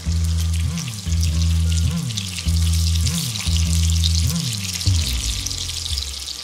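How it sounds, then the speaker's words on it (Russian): Small, thin meat cutlets frying gently in moderately hot oil in a pan, a continuous close sizzle and crackle with a low rhythmic hum from the stove running underneath. "Котлетки жарятся очень спокойно."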